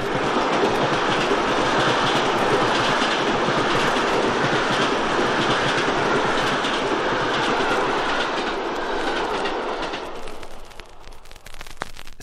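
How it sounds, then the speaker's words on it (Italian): A train passes close by in a stereo recording, a loud continuous roar of rolling wagons with rhythmic clickety-clack from the wheels, fading and thinning as it moves away near the end. "potrà ora ascoltare lo stesso rumore come viene da lei realmente percepito quando un treno le passa davanti"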